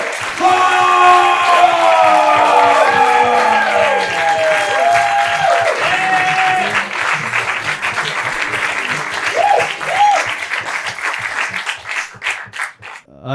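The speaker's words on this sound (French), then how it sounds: "Un maximum d'applaudissements, s'il vous plaît, pour Olivier Faure!" A comedy club audience at the Ninkasi greets a stand-up comedian with sustained, loud applause. A tonal musical sting sounds at the start, and the clapping thins out toward the end.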